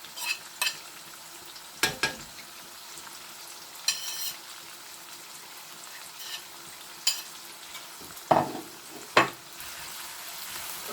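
Scotch bonnet pepper and freshly chopped garlic fry in a pan under a soft continuous sizzle, broken by several sharp scraping stirs of a spoon against the pan at irregular intervals, close and clear.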